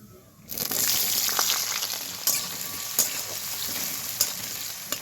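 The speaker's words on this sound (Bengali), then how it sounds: "সেই পেঁয়াজ কুচিটা এবার দিয়ে দেবো।" Two medium onions, finely chopped, hit hot oil with a sudden loud burst of sizzling after a quiet start. The frying then settles into a steady hiss punctuated by a few sharp stirring clacks.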